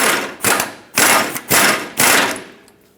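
A wrench snugs up the 24 mm mounting nuts on the power steering rack of a 2008-2012 Jeep Liberty 4x4. Five loud, close ratcheting bursts come in a steady rhythm, each about half a second long.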